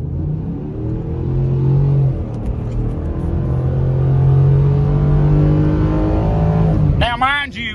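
A truck engine drones loudly and steadily as it accelerates, its pitch climbing gradually in long revving pulls. It drops off just before a voice begins at the end.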